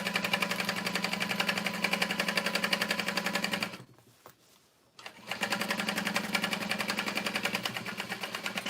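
Sewing machine top-stitching through the exterior fabric of a tote bag at a long stitch length, a fast rhythmic chatter that stops for about a second midway and then resumes at the same steady pace.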